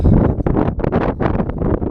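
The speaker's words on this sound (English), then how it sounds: "If the wind is too much, maybe I can just edit it out." Strong wind buffets a camera microphone outdoors on a cold, blustery morning, producing a continuous loud rumbling roar with gusty surges and brief dips and no speech.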